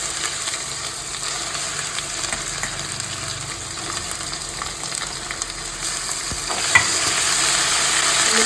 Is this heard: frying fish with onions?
yes